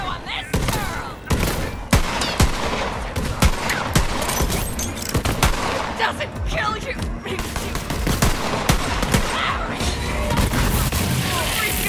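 Rapid gunfire from a gun in the video game Borderlands 3, dense crackling shots and booms firing almost continuously, with game voices and effects mixed in.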